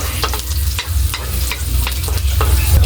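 Onions sizzle loudly in a hot frying pan for pork picadillo, a continuous close hiss with rhythmic scraping strokes as they are stirred.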